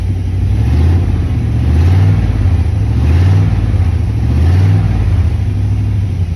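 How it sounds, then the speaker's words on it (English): A Chevy truck engine that runs rough is revved in slow swelling waves as the throttle is feathered, loud and close, with about four rises and falls. "Feathering the gas."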